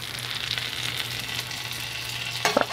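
A sole fillet searing in a tablespoon of melted butter in a hot pan, a steady close sizzle with a quiet low hum beneath and a few sharp clicks near the end, no voices.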